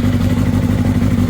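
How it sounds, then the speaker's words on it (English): A Honda CBR600RR motorcycle engine, recovered after being drowned in a pond, runs rough just after starting, a steady low uneven drone with no clear revs, close and loud. "Doesn't sound like it's running on all cylinders."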